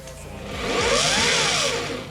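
A power saw cuts through metal tubing, a loud, harsh whining grind that swells in the middle of the cut and eases off toward the end, close up with no speech.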